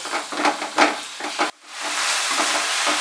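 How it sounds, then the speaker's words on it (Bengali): Minced chicken, about 200 grams, sautéing in a pan on medium heat, with a few scraping stirs in the first half, then a steady broadband sizzle running on alone, moderately loud and close. "চিকেন কিমাটা দিয়ে মাঝারি আঁচে আমি আবার 2-3 মিনিট এটাকে কষাবো"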